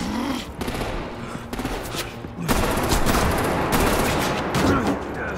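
Gunfire in the video game Batman: The Enemy Within, a dense burst of shots and rattling fire that runs throughout, loud and continuous, with a rising wash of noise in the second half.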